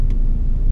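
A car engine runs steadily in gear through a manual transmission, a close, continuous low rumble with no talking over it.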